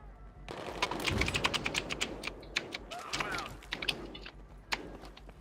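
Rapid bursts of clicky keyboard-like taps during a Battlefield 3 co-op match, dense and overlapping near the mic, mixed with game noise and voices talking.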